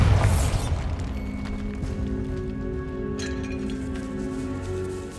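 A Bombarda spell detonates in Hogwarts Legacy, a short, punchy blast right at the start that quickly fades into a lingering low rumble and faint ambient tones.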